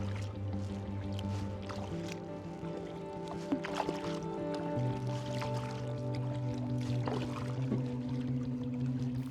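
Kayak paddling up Alta Lake in Whistler, with soft water swishes and light drips from the paddle strokes, set against a steady low drone and other background noise.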